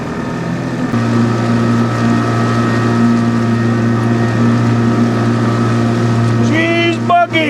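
A motorboat trolling on a lake drones steadily, its engine a loud, constant hum close by, with a brief warbling whine near the end.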